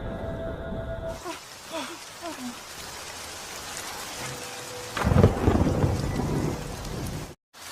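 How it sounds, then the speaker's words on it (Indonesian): Thunder strikes amid steady rain, with a heavy crackling boom bursting out partway through over the continuous patter of falling rain before a sudden cut near the end. "Terlihat petir menyambar dan langit mulai mendung."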